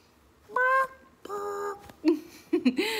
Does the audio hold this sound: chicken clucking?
yes